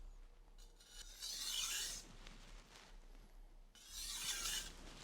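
Soft raspy strokes of a Wusthof Classic Ikon knife edge drawn across a sharpening stone: two gentle scraping passes about two seconds apart, faint and close, with no voice over them.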